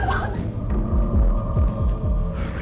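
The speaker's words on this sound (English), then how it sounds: "You hear a heartbeat." A heartbeat sound effect in a spooky setting, low throbbing pulses repeating steadily under a continuous droning hum, heavy and close.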